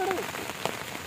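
Monsoon rain falling in the Konkan countryside, a dense steady patter on surfaces with scattered nearer drops, heard close and continuous with a brief faint voice near the start.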